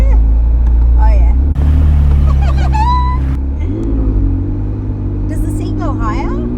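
Engine of a McLaren 570S Spider convertible rumbles and rises as the car pulls away, a deep steady drone swelling up in pitch, heard from inside the cabin under overlapping speech from the occupants.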